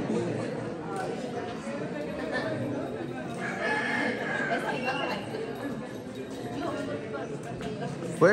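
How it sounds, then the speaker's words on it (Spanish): Roosters crow at dawn in a rural ejido during a patron saint festival in Tamaulipas, Mexico, heard faintly in the distance beneath steady crowd chatter and ambient noise. "ya casi está amaneciendo y se escucha el cantar de los gallos aquí en el Ejido Gallos Grandes"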